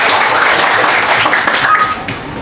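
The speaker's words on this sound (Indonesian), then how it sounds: "Sudah tepuk tangan dulu buat semua." A classroom of students applauds together, a steady wash of clapping that stays loud and even before tapering off slightly at the end.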